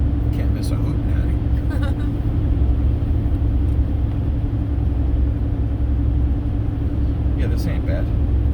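A car engine running in fourth gear at 2500 RPM on Route 28 through the Catskills' Esopus Creek valley holds a steady low drone with road rumble, under occasional talk.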